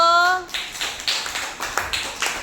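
Young children in a school pre-primary class clap together in a quick, even run of sharp claps just after a brief tonal sound.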